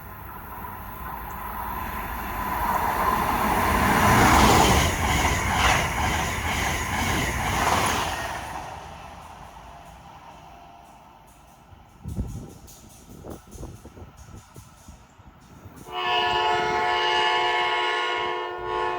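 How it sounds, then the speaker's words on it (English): A northbound Amtrak Acela high-speed train roars past loudly in Odenton, Maryland, building then fading, followed by clattering wheels and a long, steady horn blast near the end. "Next was a northbound Acela."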